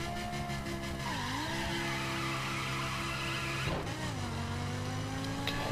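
Lamborghini Huracan in The Crew, in Circuit Spec racetrack trim, launching with wheelspin: a loud, steady engine roar with tire squeal, pitch falling and rising again through gear changes, no voices.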